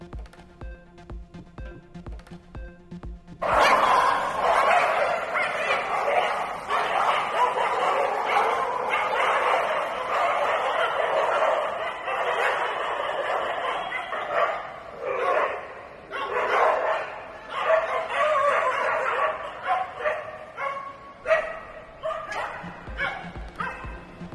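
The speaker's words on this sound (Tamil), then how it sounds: "சென்னை விமான நிலையத்தில் நாய்களின் அட்டகாசத்தால் கதிகலங்கும் பயணிகள்." Dogs barking at Chennai airport, a loud run of yips and barks that starts a few seconds in and continues over a busy background, with speech-like voices mixed in.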